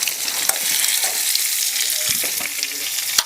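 Onions sizzle and fry steadily in a hot pan while a chicken liver fry is cooked, a dense continuous crackle with a few louder pops near the end and no voices.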